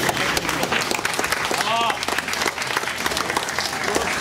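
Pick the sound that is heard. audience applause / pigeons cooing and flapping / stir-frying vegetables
audience applause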